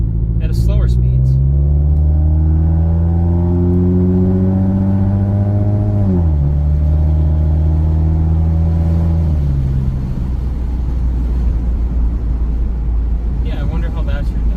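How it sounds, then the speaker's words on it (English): Inside a 2015 Subaru WRX while driving, a loud steady rumble of road and engine noise with tones that climb and shift through gear changes, and a voice talking briefly at the start and end. "I think it is a little bit too much road noise"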